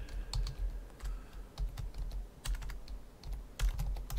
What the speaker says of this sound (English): you can see I'm really slow at typing here